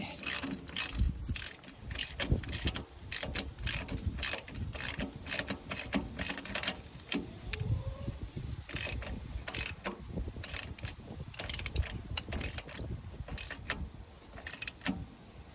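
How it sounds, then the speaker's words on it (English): A ratchet clicks in rapid, repeated bursts while cranking a 1 1/16 inch nut tight on a 1953 Ford Jubilee tractor, close and fairly quiet, with brief pauses between strokes. "Grab the breaker bar, get that put on there, and just give it 2 or 3 good cranks."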